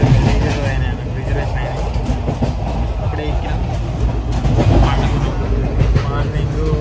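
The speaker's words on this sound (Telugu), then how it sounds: "ఇప్పుడే మన విజయవాడగా ట్రైన్ ఎక్కినాం" A passenger train rolls out of Vijayawada, its steady rumble and rattle of carriages filling the cabin while people talk close by over the noise.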